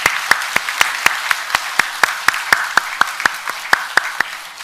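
A church congregation applauds during a Sunday morning worship service, a steady wash of many hands with sharp, evenly spaced unison claps roughly four per second standing out, sustained and fairly loud with no talking.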